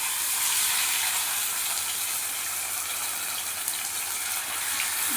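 Fish in a green coriander masala frying in oil in a pan, giving a loud, continuous hissing sizzle throughout with no pauses.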